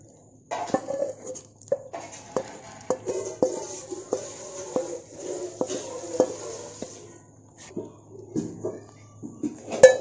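Chicken being stirred into butter-glazed fried rice in a pan, with a utensil scraping and clinking against the metal in repeated strokes over a faint sizzle, close and fairly loud.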